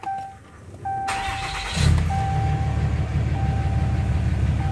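A Cummins 6.7 diesel pickup truck cranks and fires up, the starter whine giving way to a loud, steady rumbling idle that continues close by.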